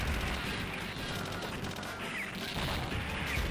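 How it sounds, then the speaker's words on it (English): Bomb explosions in the arcade shooter Shock Troopers come as a dense, rumbling barrage of blasts and crashes, continuous and fairly low in level with no pause. "Bomb."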